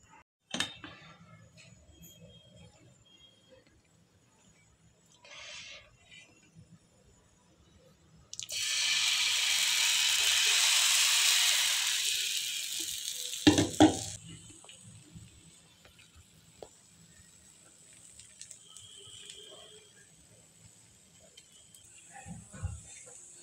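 Besan flatbreads sizzle on an oiled griddle in a home kitchen: a loud, steady hissing burst lasts several seconds midway, framed by quieter clinks of utensils and dishes.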